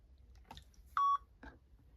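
A Lenovo ThinkPad X130e laptop gives a single short, fairly low-pitched electronic beep as it wakes from sleep, clear and alone over faint background noise, with soft handling sounds around it.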